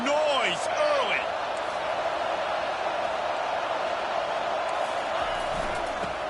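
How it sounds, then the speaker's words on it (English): A large crowd roars steadily throughout at a Hokies college football game in the stadium, loud and continuous, with a few brief whoops and whistles rising near the start. "This crowd bringing the energy and noise early."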